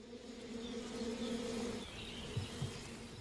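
Honey bees buzzing steadily around beehives in a wild Russian valley, a close, droning hum that cuts off partway through, followed by a couple of soft thuds.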